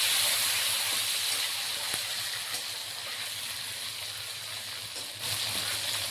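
Potatoes frying in hot oil with dry red chillies and cumin, a steady soft sizzle and hiss that runs evenly throughout, moderately close, with a brief dip near the end before it picks back up.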